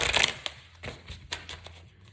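Tarot cards shuffled by hand, a burst of riffling followed by several soft, separate flicks and taps of the deck, close and fairly quiet.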